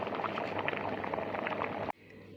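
Tomato sauce with bay leaves, cloves and black pepper simmering in a pot, a close, dense bubbling and popping that stops abruptly near the end.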